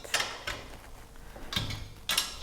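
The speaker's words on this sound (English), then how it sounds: "I'm just going to give them a final tighten with a 15mm spanner" Metal spanner clicks and ratchets in four sharp, close taps as nuts on a self-fit garden edging join get a final tighten with a 15mm spanner.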